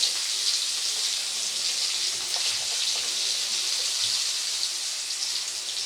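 Sliced onions frying in a pan give off a steady, even sizzling hiss that holds without a break, close and clear, with no talk over it.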